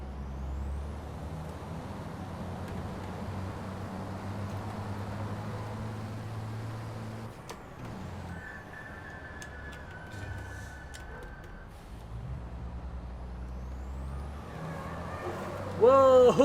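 Racing truck engine droning low and steady in the FIA European Truck Racing Championship game, with a high whistling tone mid-way and a sharp hiss of brakes at the end.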